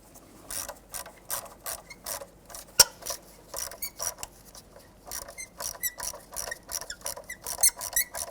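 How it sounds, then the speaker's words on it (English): A 10mm socket ratchet loosens ignition coil nuts on a 1999-2004 Jeep Grand Cherokee 4.7L V8, clicking in quick, repeated bursts of sharp pawl ticks, close and fairly quiet. "I'm going to use our 10mm socket and remove the nuts on the top of our ignition coils"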